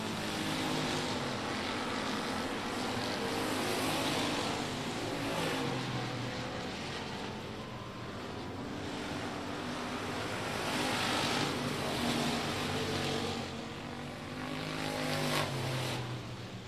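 USRA factory stock cars race around the Rocket Raceway Park track, a dense, continuous roar of several engines that swells and fades as the pack passes, heard from a distance with no voices.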